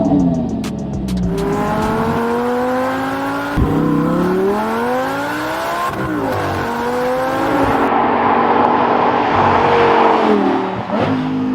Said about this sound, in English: this car's running the Milltek race exhaust, and it sounds absolutely epic